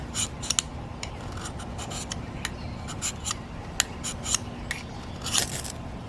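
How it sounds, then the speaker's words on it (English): A ferro rod is scraped in quick, sharp rasping strokes to shed shavings, close and distinct over a steady outdoor hum in urban woods. "put a few shavings in there from the old ferro rod"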